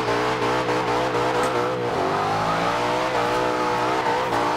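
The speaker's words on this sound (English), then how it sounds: "So let's flat out this truck, and let's make some runs, man." A 1000hp+ Ford Bronco drift-build truck in Forza Horizon 2 roars flat out, its loud, sustained engine note climbing steadily and dropping once through a gear change midway, with faint tire noise beneath.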